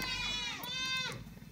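A large goat bleats loudly and nearby in long wavering cries at a farm before milking, with faint background noise.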